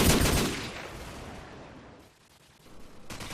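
Automatic rifle fire, an AK-47 in Call of Duty 4: Modern Warfare, rattles in a quick burst at the start, fades out, then a short new burst returns at the end, fairly faint overall.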